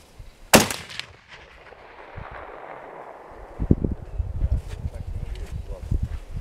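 A single sharp, loud SKS carbine gunshot cracks early on at target shooting, followed by a fading echo, then low rustling and muffled voices.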